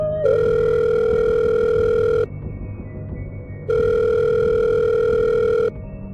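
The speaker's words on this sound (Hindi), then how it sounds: "तभी उसकी माँ का फोन आया।" A telephone rings in two long electronic bursts with a pause between them, loud and close, with no voices.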